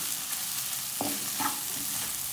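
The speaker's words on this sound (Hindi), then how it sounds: "इसको अच्छी तरह मिक्स कर दें।" Gobi manchurian with capsicum stirred in a pan, a steady close sizzle with scraping spoon strokes partway through, no voices.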